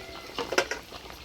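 Oil left from frying hilsa fish goes into a pan for mustard hilsa curry, giving a brief soft sizzle with a few light clinks, quiet and close.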